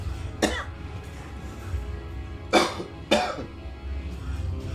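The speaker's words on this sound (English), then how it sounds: "you guys are gonna have to excuse the coughing." Three harsh, close coughs from one person, the first alone and then two in quick succession about half a second apart, over a low steady background hum with no talking.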